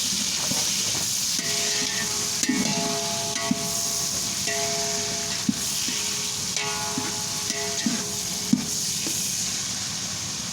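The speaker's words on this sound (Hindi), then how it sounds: "सबसे पहले हरी मिर्ची ऐड करते हैं, बिस्मिल्लाहिर्रहमानिर्रहीम, और इसके साथ ही टमाटर ऐड कर देते हैं। इनको हिला लेते हैं अच्छी तरह" Green chillies and tomatoes fry in a pan with a steady sizzling hiss, while a utensil stirs them and scrapes against the pan every second or two; no voices.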